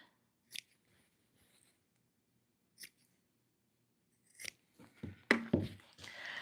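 Scissors snip the corners off quilted fabric pot holders: a few sparse, quiet cuts spaced seconds apart, then a closer cluster of rustling handling and crisp snips toward the end.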